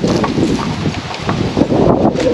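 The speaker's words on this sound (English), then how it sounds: "So windy. It's been windy the last 2 or 3 days." Strong wind blowing outdoors beside a greenhouse, loud gusty rushing and buffeting close to the microphone throughout, with no talk.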